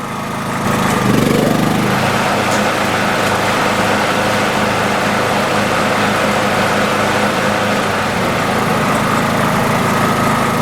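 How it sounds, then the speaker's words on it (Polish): A lawn mower running on power from a Honda generator, a loud steady close electric motor hum that starts and then holds at full speed without pause, with no talking. "a ja włączę kosiarkę."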